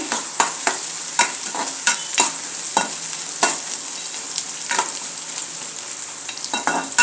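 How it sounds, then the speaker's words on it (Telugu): Sliced onions frying with biryani masala in oil, a loud continuous sizzle broken by frequent sharp scraping strokes of a stirring spoon against the pan, close up and without talk. "ఇప్పుడు బిర్యానీ మసాలా వేసాను కదా, అందులోనే ఈ ఎర్రగడ్డలు కూడా బాగా ఫ్రై అవ్వాలి."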